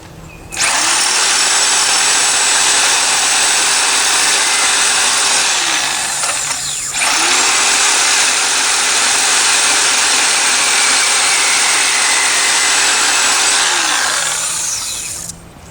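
Power tool, likely an angle grinder or cutoff tool, cutting through screws holding plywood on a pickup truck rack; two long, loud, steady whining cuts of about six seconds each, close by, with a short pause between them.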